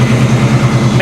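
A car engine idles steadily close by with the air conditioning compressor clutch engaged and spinning, giving a continuous low hum with a faint rhythmic pulse.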